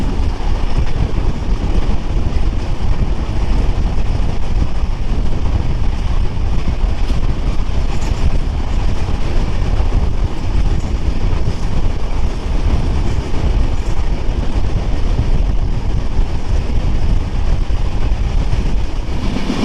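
The Drutojan Express rolls along at about 75 km/h on the Dhaka to Panchagarh line, giving a continuous loud rumble and rattle of the railcars heard from on board, with no talk.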